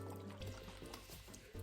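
Degreaser liquid poured into an ultrasonic cleaner tank for cleaning a bike chain and cassette, a steady close liquid fill running throughout the short stretch with a slight gurgle near the end.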